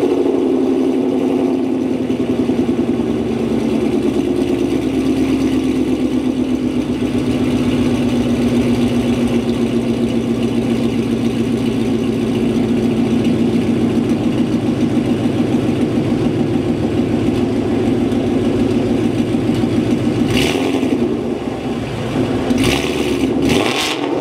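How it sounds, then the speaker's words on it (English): Ford Mustang engine idling loudly and steadily outdoors, a deep continuous rumble with a slowly falling tone, followed near the end by a few short sharp exhaust blips. "I'm gonna go ahead and give you guys a startup and a few revs"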